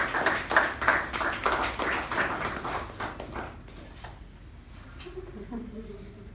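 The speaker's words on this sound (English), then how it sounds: "So please welcome with a huge round of applause" An audience gives a round of applause at a meeting as a guest is welcomed: a few seconds of moderately loud, rhythmic clapping that fades away, followed by a quiet pause and a faint voice.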